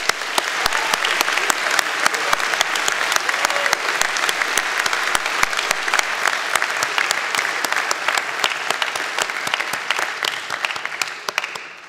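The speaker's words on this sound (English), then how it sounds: "a round of applause for our student award winners" A convocation crowd claps for student award winners, a sustained roll of many hands with sharp individual claps standing out throughout, holding at a steady level for about twelve seconds with no one speaking.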